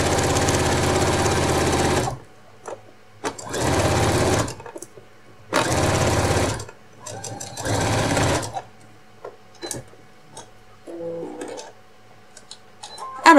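Sewing machine stitching along the bodice edge of a retro apron, 1 cm from the edge, running in four loud bursts of about one to two seconds each, with quiet pauses and small clicks and handling noises between them.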